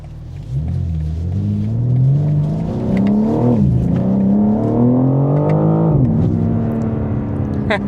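A 2025 BMW M4 Competition xDrive pulls hard under acceleration, its engine note rising steadily through the gears with a brief dip at each shift. The sound is loud, close and continuous, heard from inside the cabin.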